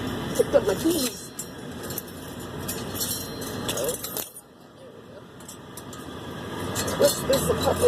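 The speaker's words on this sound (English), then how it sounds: "Picked up my keys." Keys jangling near a car, with bright metallic clinks at the start and again at the end, mixed with rustling, vehicle noise and talk.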